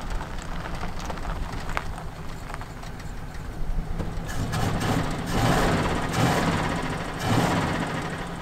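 A 1951 Ford Custom with its flathead V8 idling steadily nearby, a low continuous rumble with a faint rhythmic ticking and a few louder swells toward the end, no talking.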